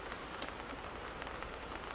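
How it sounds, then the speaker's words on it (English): Steady rain patters on a surface, a dense, even hiss of many drops, faint and continuous with no voices. "this is rain"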